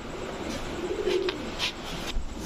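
A female Dauka pigeon, black with a white head crest, gives a soft low coo lasting about half a second, close by, with light background noise.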